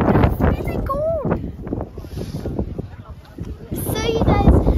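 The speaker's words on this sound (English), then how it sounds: "now it is extremely like windy here" Gusty mountain wind on Mt. Titlis, Switzerland, buffeting the microphone, with a person talking over the rumbling noise.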